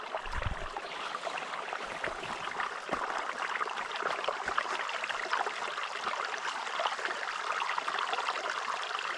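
A river flows through Nantahala Forest, the water falling and trickling from a culvert pipe into the stream. It makes a steady, close rushing babble with a few low thumps near the start and no voices.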